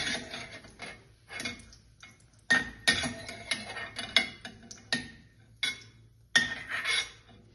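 A spoon scoops fried cashews and raisins out of a pan into a bowl, making a series of close, irregular metallic clinks and scrapes separated by short quiet pauses, with no voices.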